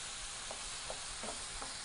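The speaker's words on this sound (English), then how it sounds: "we just want to move them around the pan until they all start to turn pink" Shrimp being stirred in a skillet for New Orleans BBQ shrimp, a quiet, steady sizzle with a few soft scraping stirs, heard alone.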